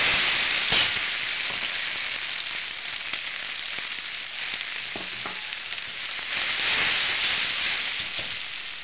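Onion, capsicum and shiitake mushroom sizzle in hot cooking oil for egg drop soup, a close, steady frying hiss with occasional stirring scrapes, swelling slightly near the end, no talking.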